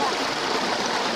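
Water pours steadily from a village tubewell, a continuous close rushing splash with faint voices in the background.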